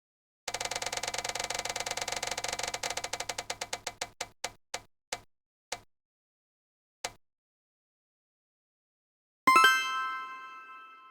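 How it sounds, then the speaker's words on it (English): A spinning TBR prize wheel: fast, even ticking that gradually slows to sparse single clicks and stops, then after a pause a bright chime rings out and decays. "let's roll the clip of the TBR wheel deciding"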